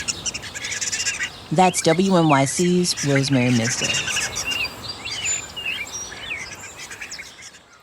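Birds chirp and call around Broadway street medians, with bright twittering in the background while a voice talks over them; the chirping continues after the speech ends.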